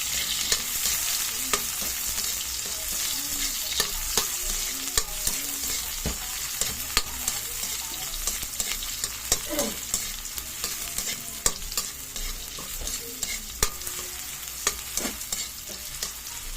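Garlic and onion sautéing in hot oil for a tomato dish, a constant loud sizzle with repeated sharp stirring clacks and scrapes of a spatula against the pan.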